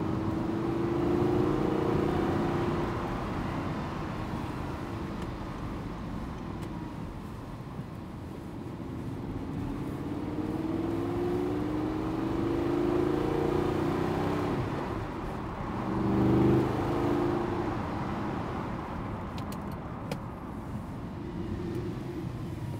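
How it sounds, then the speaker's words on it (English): An Audi R8 V8 Limited Edition sports car with a six-speed manual gearbox is heard from inside while driving, its engine droning steadily and rising and falling through gear changes under road noise. "Audi R8."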